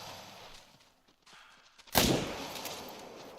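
A single rifle shot fired while hunting in theHunter: Call of the Wild, one sharp loud crack about midway that decays into a short rumbling tail over quiet ambience.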